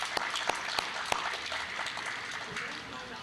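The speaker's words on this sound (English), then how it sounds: "Let's keep that applause going for just a second, folks" Crowd applause at the Jour de Fete festival in Ste. Genevieve, Missouri, a dense patter of many hands clapping at moderate distance, with a few sharper claps standing out and a voice faintly beneath.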